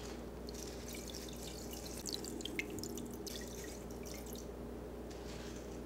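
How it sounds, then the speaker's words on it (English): Tap water runs into a pot of potatoes at a kitchen sink: a faint, steady trickle with light dripping throughout, alone and with no voices. "go start filling the pot up with some water"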